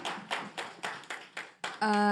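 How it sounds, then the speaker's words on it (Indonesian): A series of about seven evenly spaced claps or taps, fairly close and moderate in volume, ending as a sustained tone starts. "Kita berikan tepuk tangan untuk penanya pertama kita pada kesempatan kali ini."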